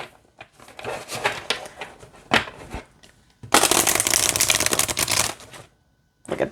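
Thin, flexible, high-gloss wide manifestation cards are shuffled by hand: soft taps and rustles, then a dense, crisp riffle lasting about two seconds, close and clear.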